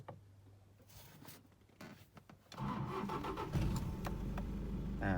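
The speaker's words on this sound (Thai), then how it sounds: "เดี๋ยวเราจะมาทำการสตาร์ทดูนะครับว่าเป็นปกติไหม" A Toyota D4D diesel engine starts up: there are a few quiet clicks and cranking sounds first, then it catches and settles into a loud, steady idle rumble close by.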